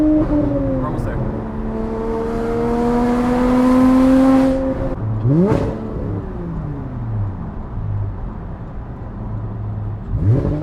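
Porsche GT4 engine driving a canyon highway, loud and close, revving up through a rising pitch, then dropping back and climbing again with gear changes; a person talks briefly over it.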